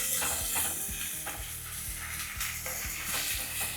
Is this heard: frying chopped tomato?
yes